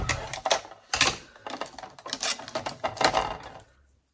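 A die cutting machine cuts a card banner for a Christmas card, giving a quick run of close, crisp clicks and clattering mechanical knocks for about four seconds before stopping.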